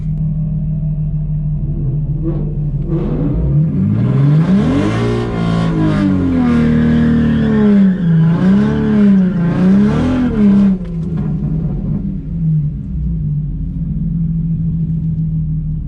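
A drag car's engine roars during a weak burnout, holding a loud steady drone and then revving up and down in several rising and falling sweeps before settling back to a rumble, close and alone.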